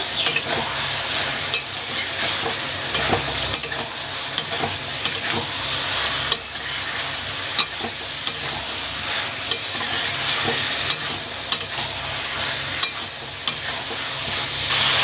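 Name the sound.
fried prawns stirred and mixed in a frying pan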